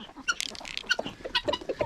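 A broody turkey hen on a small farm gives rapid, busy clucking in quick uneven bursts, close and fairly loud, with no talk over it.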